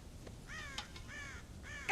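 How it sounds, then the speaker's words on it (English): Crows caw repeatedly at a ranch silo in Red Dead Redemption, three harsh calls in a row at moderate distance over a quiet outdoor background. "God damn crows!"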